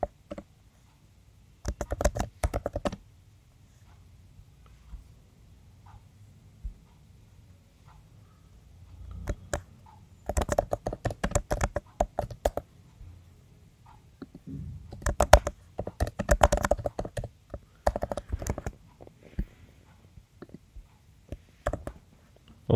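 Typing on a computer keyboard while building a Laravel website: scattered bursts of quick close key clicks separated by quiet pauses, with no voices.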